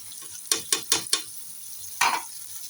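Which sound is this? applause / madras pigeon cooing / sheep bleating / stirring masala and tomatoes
stirring masala and tomatoes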